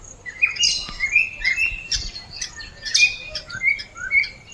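Disturbed birds, parrots among them, squawk and chirp in a tiger reserve, loud repeated harsh calls overlapping in quick bursts against a quiet outdoor background.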